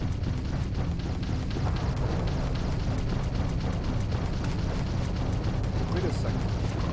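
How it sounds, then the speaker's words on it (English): In a video game, weapons open fire amid dense, continuous explosions and booming blasts, a loud unbroken barrage with rapid bursts layered over a heavy low rumble. "Opening fire!"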